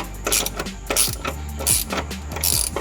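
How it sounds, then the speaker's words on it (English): A bolt on the rear subframe mount of an Audi B9 S5 Sportback is run in with a ratchet, giving a close series of quick metallic clicking bursts in a steady rhythm with no voices. "I guess I'll put my bolt in and tighten it up."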